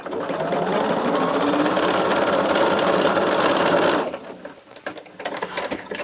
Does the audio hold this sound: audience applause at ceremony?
no